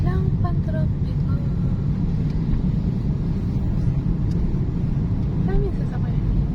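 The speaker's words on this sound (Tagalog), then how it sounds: "Maraming sasakyan dito." Steady rumble of road traffic with many vehicles passing on a road between Bongabon and Cabanatuan City in Nueva Ecija, Philippines, continuous and fairly loud, with music and voices faintly layered over it.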